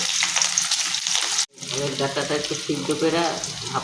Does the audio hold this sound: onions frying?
yes